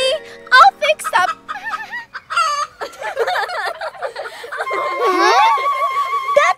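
Chicken clucks and squawks in bursts of warbling cries close by, mixed with a rooster-like crow and a child's laughter and excited voices.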